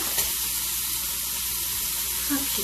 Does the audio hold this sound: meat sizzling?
yes